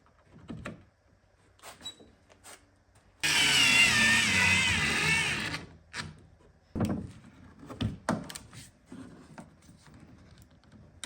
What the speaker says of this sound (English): Then I'll line up the screw hole, put it back in, screw it in, clamp it up, and let it set.